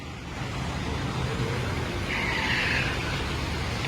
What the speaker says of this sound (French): Ah, ta voiture qui arrive.